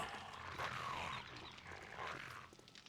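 A zombie dog growls in the video game 7 Days To Die, a faint, low, rough snarl rising and falling twice over a dull background hum.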